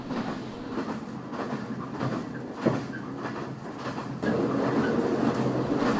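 Sleeper car of a passenger train rolling along the rails, a steady near rumble with faint clatter and a brief knock midway, growing louder and fuller toward the end.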